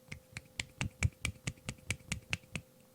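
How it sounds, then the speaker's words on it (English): A single hand snapping or slapping out a steady run of about eleven crisp, close snaps, evenly spaced, standing in for applause with no one speaking. "Actually, here's a one-hand clap"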